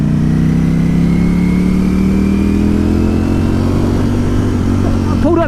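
A 2020 Ducati Streetfighter V4 S motorcycle accelerates in fourth gear on an open road, its engine note climbing steadily and loudly throughout, with a rider's voice talking over the roar.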